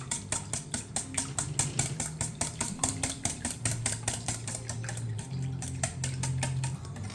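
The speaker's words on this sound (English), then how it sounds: "Let me quickly whisk this up for you" A whisk beats ingredients in a stainless steel bowl, producing a rapid, regular train of metallic clicks and taps close up, with a low hum steady underneath.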